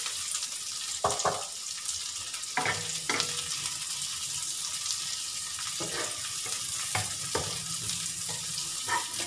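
Onions sauté in a hot oily pan while cooking Filipino humba, a steady close sizzle broken by occasional scraping stirs, with no talking.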